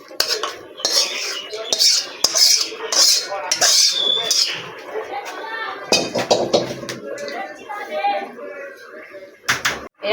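Cooked bitter gourd and eggplant curry made with fish oil being scraped and poured from a pan into a dish, with loud metal spoon clatter and utensil knocks throughout under steady talk.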